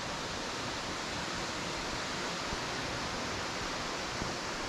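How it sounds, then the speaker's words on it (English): A small waterfall spilling down near a spring by a cave on a river loop trail, a steady broadband rush of falling water, close and continuous with no talk. "there's a little bit of a waterfall right there coming down"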